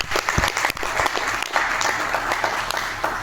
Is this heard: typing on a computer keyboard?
no